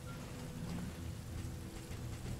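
Steady, even rain fills the scene in the video game Darkest Dungeon II, a dense unbroken hiss with a soft low rumble beneath, constant and fairly quiet throughout, with no voices.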